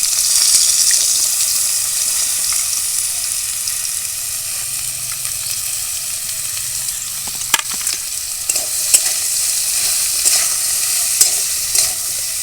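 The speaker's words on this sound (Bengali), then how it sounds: "এবার এখানে কাটা সবজিটা, এই যে কচু, আলু আর বেগুন দিয়ে দিচ্ছি" Cut taro, potato and eggplant hitting hot oil in a wok give a loud, dense, continuous sizzle close by, with a few clinks and stirring knocks toward the end.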